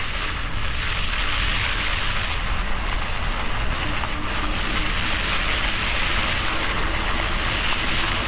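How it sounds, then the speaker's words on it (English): Tires of an eTrike rolling over uneven gravel produce a steady, loud crunching rumble that continues throughout with no talking. "Let's check out some uneven terrain. Riding over some gravel"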